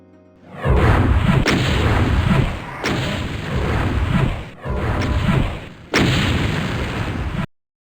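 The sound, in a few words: Brown Void Imp fireball attacks in a video game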